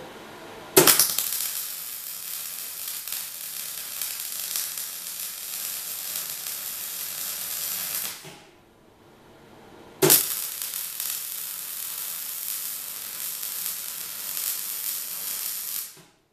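MIG welding runs a bead in two long, steady crackling hisses, each starting with a sharp strike and separated by a brief quiet pause.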